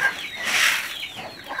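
Chickens cluck while being fed corn, a close, fairly loud burst of clucking that rises and fades over under two seconds, with no talking.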